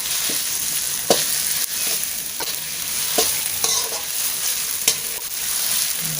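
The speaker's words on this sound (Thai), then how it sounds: "ก็จะผัดเครื่องแกง ให้หอมนะคะเพื่อนเราก็ใช้ไฟกลางๆนะผัด" Thai curry paste stir-frying over medium heat in a pan, a steady sizzle broken by regular scraping strokes of a spatula, close and alone with no talk.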